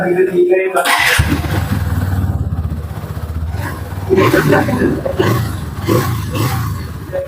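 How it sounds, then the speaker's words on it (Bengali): A Hero Xtreme 160R 4V Thriller motorcycle engine starts with a burst and settles into a deep, steady throbbing idle close by, with a couple of revs rising through it as someone talks over the sound. "এবারে এটার যে ইঞ্জিনের সাউন্ডটা সাউন্ডটা যদি আমি আপনাকে একটু শুনিয়ে দিই"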